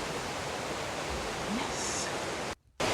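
Steady broadband rush of a river running through a wooded valley at Noisy River in Manchester, Jamaica, loud and continuous, briefly cutting out near the end, with a faint higher tone drifting over it.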